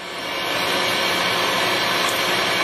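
Pre-owned Mori Seiki 20½ by 60 inch toolroom precision lathe running at 67 RPM, a steady, loud, broadband machine whir and hum with no change in pitch and no talking.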